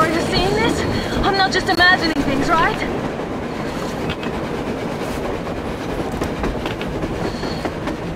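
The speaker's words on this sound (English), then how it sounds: "A damn train on the surface!" A train rumbles past on the surface in the Metro Exodus video game, a steady rolling clatter with squealing metallic wheel tones early on, while voices talk over it.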